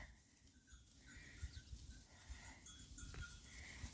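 A herd of goats near Lake Eğirdir, faint bleats scattered over a steady rustle of hooves and movement, heard from a little distance.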